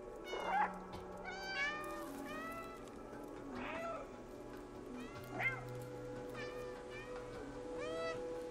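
Several cats meow in the video game Stray, a handful of separate high, drawn-out mews and short chirps scattered over a steady low background hum, moderately faint and without talking.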